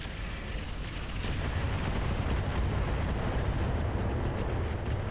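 Mech weapons firing in the video game Roguetech, a dense continuous roar of heavy booming shots and rumbling impacts, loud and sustained without pause.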